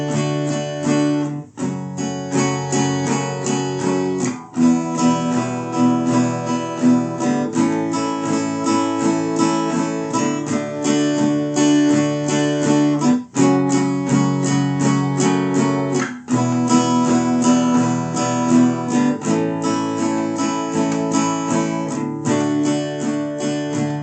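Acoustic guitar strums a chord progression in a steady down-up pattern, changing chords every couple of seconds, close and clear with no voices.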